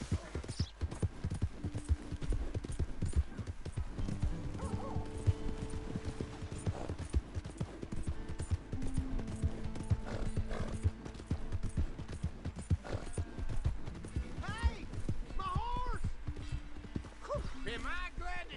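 Horse hooves clip-clopping steadily in the video game Red Dead Redemption 2, an even rhythmic stride running throughout under music and characters talking.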